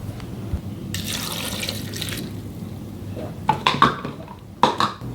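Plain water poured into a blender over chopped pandan leaves for onde-onde, a brief rushing splash followed by clinks and knocks of the jug and blender.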